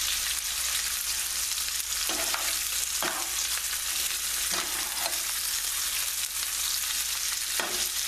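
Veal cutlets sizzle steadily in butter in a non-stick pan, a loud continuous crackling fry with occasional louder spits and no voices.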